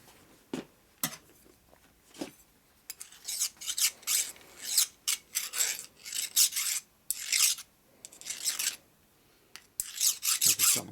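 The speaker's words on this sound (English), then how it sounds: "It's a nice dull file, so it's not really taking any metal off." A dull hand file rasps across the flywheel of a 1965 Harley-Davidson panhead 74ci lower end, working at burrs in a series of short, irregular strokes, close and fairly quiet with brief pauses between bursts.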